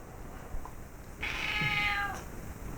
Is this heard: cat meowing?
yes